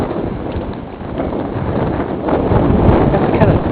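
Cold wind gusts outdoors in a yard, buffeting the microphone with a steady, loud rumbling roar that swells stronger toward the end.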